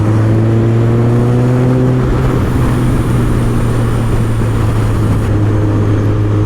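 A 370hp supercharged Kawasaki ZZR1400 pulls in top gear from low revs, its loud steady engine drone rising in pitch under heavy wind rush.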